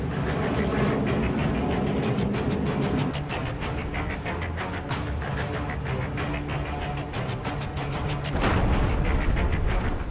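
Akash Prime surface-to-air missile fired at the Integrated Test Range in Chandipur, Odisha: a continuous loud roaring rush with crackling bursts throughout, dense and unbroken for about ten seconds.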